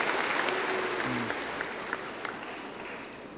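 Applause fills a large hall at a university spring commencement ceremony as a broad, even roar of many hands, sustained and slowly fading, with a short low voice briefly under it.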